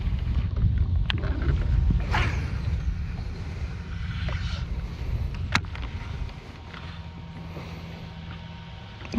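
Wind buffets a microphone outdoors on a lake during a fishing trip, a loud rumbling low roar that swells and eases over several seconds, broken by a few sharp knocks and clicks.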